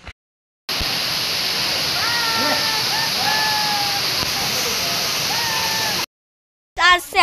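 A river flows with a steady, loud rushing roar, while voices talk and call over it throughout, and the water sound cuts out briefly at the start and near the end.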